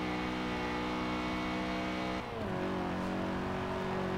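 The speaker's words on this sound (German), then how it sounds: "Schöner Saugmotor." A small 1.6-liter naturally aspirated front-wheel-drive car engine in Forza Horizon 4 holds a loud, steady high rev, dips briefly as it shifts gear, then climbs again in a continuous buzzing drone.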